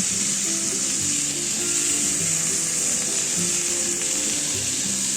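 Potato and pumpkin pieces fry in hot oil with a steady, even sizzle that continues close and loud throughout, with no talking.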